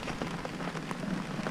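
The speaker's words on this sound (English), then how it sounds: "Aiden, it's raining hard." Heavy rain pours down steadily and close by, a dense continuous patter with scattered sharper drop hits throughout and no voices.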